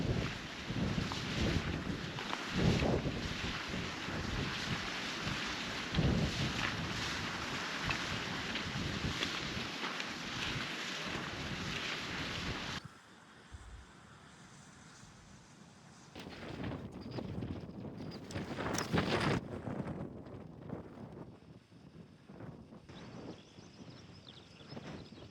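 Wind gusts across a hillside hiking track on the Lady Anne's Way, buffeting the microphone with loud, rough roaring that cuts out abruptly midway, then returns in bursts.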